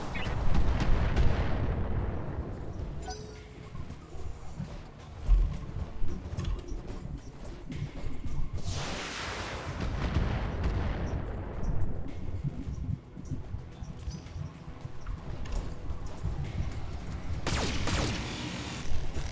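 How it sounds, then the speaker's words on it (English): Weapons, including medium lasers, firing on a target in the BattleTech video game, heard as a long stretch of rumbling artillery-like blasts and booming impacts with some gunfire crackle, loud and continuous. "Confirmed. Firing on target."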